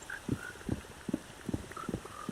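Frogs croaking in the Minecraft video game, a string of low, evenly spaced croaks about every half second, fairly close and alone against a faint ambient background.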